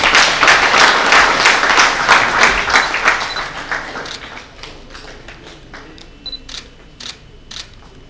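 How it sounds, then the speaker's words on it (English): Audience clapping at a technical session, a dense burst of applause that is loud at first and then thins out into scattered individual claps, with a few sharp clicks near the end. "Round of applause, audience, please."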